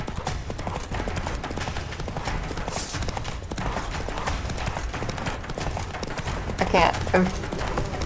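Roach the horse's hooves clop in The Witcher 3 video game, a busy rhythmic clatter mixed with scattered game effects, while someone speaks briefly over it.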